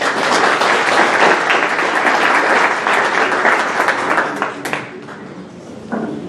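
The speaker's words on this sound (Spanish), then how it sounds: "para lo cual pido un voto de aplauso" Loud, dense audience applause at a university book presentation, a sustained roar of many hands clapping that thins out toward the end, leaving a few scattered claps.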